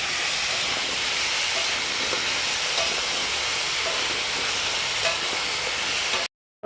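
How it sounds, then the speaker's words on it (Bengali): Potatoes sprinkled with salt fry in a pan for a mixed vegetable labra, giving a steady, close, dense sizzling hiss that holds evenly without a break and then cuts off abruptly near the end. No one speaks. "আলুগুলো দিয়ে দেওয়া হয়েছে আর নুন দেওয়া হয়েছে একটু ভালো করে ভেজে নেওয়া হবে"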